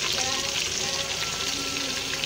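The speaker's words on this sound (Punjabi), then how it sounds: "ਲਸਣ ਅਦਰਕ ਬਰਾਊਨ ਹੋ ਗਿਆ ਅਤੇ ਹੁਣ ਟਮਾਟਰ, ਇਹਨਾਂ ਨੂੰ ਫਰਾਈ ਕਰਨਾ ਟਮਾਟਰਾਂ ਨੂੰ।" Tomatoes fry with browned garlic and ginger in a pot for a chicken dal mash, making a dense, even sizzle throughout a short moment.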